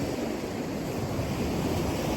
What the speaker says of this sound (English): There we are, the dangerous North Sea